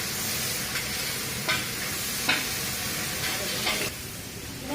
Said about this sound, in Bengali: পেঁয়াজ ভাজা হলো, টমেটো দিচ্ছি, আলুর দম হবে।